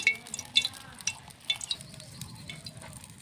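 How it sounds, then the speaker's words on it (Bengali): Small fish rubbed with salt and turmeric sizzle in hot mustard oil in a wok, a steady close crackle broken by a few sharp metal clinks of a spatula. "কড়াইতে দিয়ে দিয়েছি সর্ষের তেল মাছ ভাজার জন্য"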